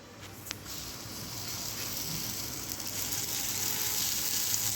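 Gunta ponganalu batter sizzles steadily in the hollows of a paniyaram pan, a close, continuous frying hiss with faint crackles and a brief clink early on.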